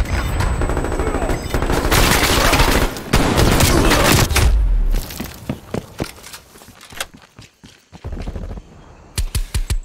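Sustained loud automatic gunfire in Call of Duty: Cold War, first as dense continuous bursts, then breaking into separate sharp shots and short volleys, with a deep boom partway through.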